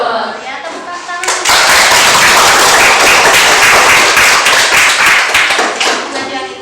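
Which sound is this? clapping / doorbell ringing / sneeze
clapping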